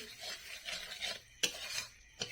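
A spoon stirs and scrapes chilli powder masala frying in oil in a pan for chicken kosha, with quiet rhythmic scraping strokes, a faint sizzle and two sharper knocks against the pan, close and soft, with no talking.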